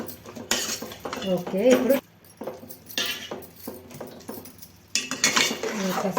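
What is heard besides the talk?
utensil stirring and adding tomato to a pot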